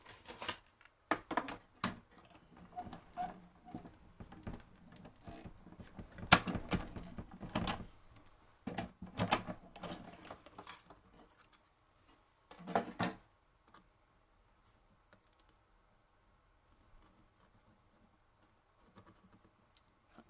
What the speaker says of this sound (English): I'm going to cut that out of Whisper White, basic white.